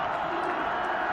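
A college football stadium crowd at Wofford hosting Georgia Southern roars steadily on third down, a dense, loud, continuous wall of noise across a single brief second.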